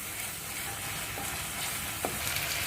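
Onions frying in a pan toward golden brown, a steady soft sizzle running throughout with a couple of faint scrapes of a spoon, no voices.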